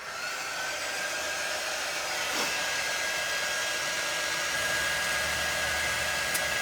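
A hair dryer blows steadily over freshly painted craft items, a constant airy whoosh with a faint motor whine, moderately loud and unbroken.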